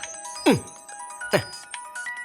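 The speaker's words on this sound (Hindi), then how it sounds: "मानिक राज का ही फोन है" A mobile phone ringtone sounds twice in quick succession, each a sharp sweeping chime over a steady electronic tone, fairly loud and close with no voices.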